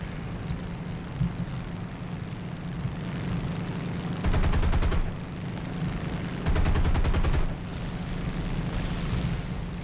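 War Thunder combat against artillery emplacements: a steady engine-like rumble runs throughout, broken by two loud bursts of rapid automatic gunfire, roughly a second each, near the middle and later in the clip.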